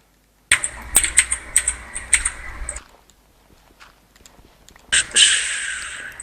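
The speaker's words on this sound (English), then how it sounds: "I have to say I love your keyboard." A noisy computer keyboard clacks in quick, loud bursts of keystrokes, then goes quiet before another short burst of typing mixed with a brighter game sound.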